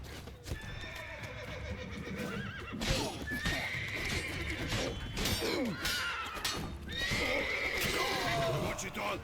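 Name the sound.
horses neighing in the video game Witcher 3: Blood and Wine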